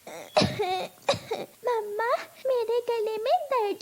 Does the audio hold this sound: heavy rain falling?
no